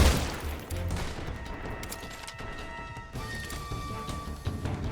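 Gunfire in the stealth video game Metal Gear Solid Delta, a burst of rapid shots and crashing impacts at the start followed by scattered smaller pops and clatter, with no speech.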